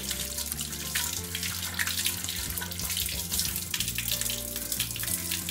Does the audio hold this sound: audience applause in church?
no